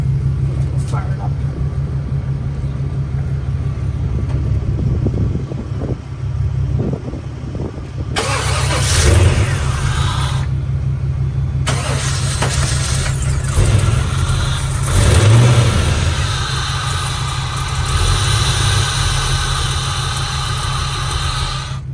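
A 1959 GMC ramp truck engine, already running with a loud steady idle rumble, then rising in a few revs and roaring, with a voice talking over it.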